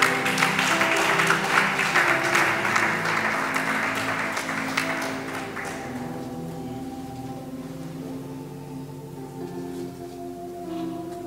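A church congregation at a Sunday service applauds loudly for several seconds, and the clapping then thins out and fades to a faint murmur.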